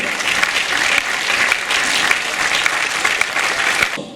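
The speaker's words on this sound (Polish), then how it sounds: "Wielkie brawa! Gratulujemy!" Steady, dense applause from a large crowd at a beauty pageant fills the whole stretch, loud and sustained with no pauses.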